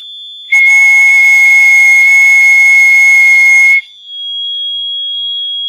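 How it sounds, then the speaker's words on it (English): Two loud electronic buzzers sound together in a steady, piercing tone for about three seconds, then a softer whistled note, around 2000 hertz, holds on alone. "So you have buzzer 1, buzzer 2, and my whistling"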